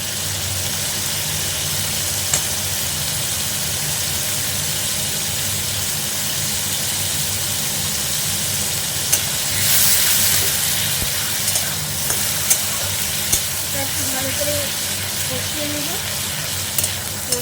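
Ginger paste frying in a pan while being stirred, a steady loud sizzle running throughout with occasional scrapes and clicks from the stirring utensil, no voices.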